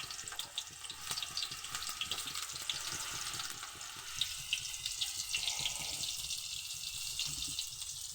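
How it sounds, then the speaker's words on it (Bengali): Potatoes and mixed vegetables fry in hot oil in a wok-style pan, a steady close hiss and crackle of sizzling throughout with faint scraping, no voices. "কড়ার মধ্যে তেল দিয়ে দিচ্ছি। এবার এক এক করে সবজি দিয়ে ভালোভাবে ভেজে নেব।"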